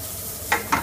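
Peas being stirred in a hot, dry pan with no oil, heard as two short scraping bursts about a fifth of a second apart against a quiet background.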